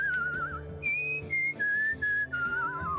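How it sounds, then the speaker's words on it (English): A character whistles a wandering tune in the Where the Water Tastes Like Wine video game, several short melodic phrases over a soft instrumental backing. "it's just like some random whistling that changes each time you do it"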